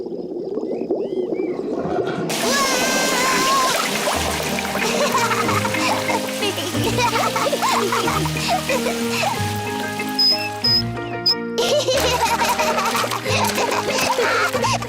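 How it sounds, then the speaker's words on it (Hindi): Water splashes and patters from a hose into a cartoon pig family's inflatable paddling pool, a continuous bright spray beneath playful background music with no talking. "पेपा ने पाइप पकड़ी और मम्मी ने पानी शुरू कर दिया।"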